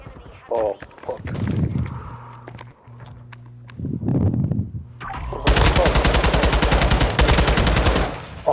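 Rapid automatic gunfire in a first-person shooter video game, a loud sustained burst of fast repeated shots following scattered footsteps and game sounds, with a voice speaking earlier.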